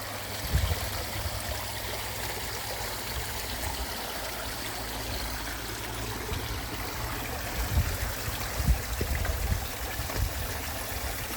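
Steady running water splashing and trickling from a garden pond waterfall, continuous and moderately close with a few louder splashes.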